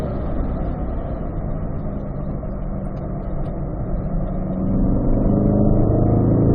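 A C8 Corvette engine rumbles steadily under braking and downshifting to fourth gear, a dense low drone that swells louder near the end as the revs rise after the downshift.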